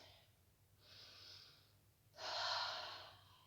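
Slow, deep breaths during a yoga session, a soft airy inhale and a fuller, louder exhale heard close up in a quiet room, with no talking.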